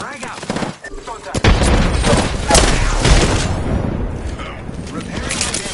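A grenade blast and gunfire in Apex Legends: after a quieter opening, a heavy boom hits and rolls into sustained loud rumbling with rapid shots and clatter, while voices call out over the battle.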